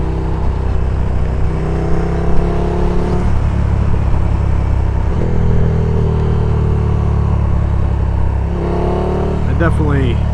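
A KTM motorcycle's engine drones steadily while riding, with pitch rising and falling through gear changes and wind rumble heavy on the mic, loud and close; a rider talks over it.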